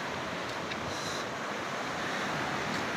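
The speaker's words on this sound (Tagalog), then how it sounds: "sarap ng hangin, sarap pakinggan yung alon." Ocean surf on a beach washes in a constant broad roar, with gusting wind buffeting the microphone throughout.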